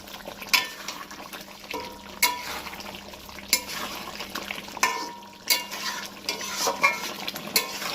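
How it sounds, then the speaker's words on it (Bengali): Dahi chicken being stirred with garam masala in a pan, a soft sizzle punctuated by repeated scraping, clattering strokes of a spoon against the pan at an uneven rhythm, close and fairly quiet. "এই গরম মশলাটা দিয়ে কিছুক্ষণ ঘেটে তারপর তুলে নেব"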